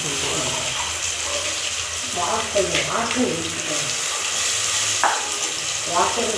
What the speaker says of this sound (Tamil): இந்த அரைச்சி வச்சிருக்கிற விழுதை அப்படியே அதில் போட்டு விடணும்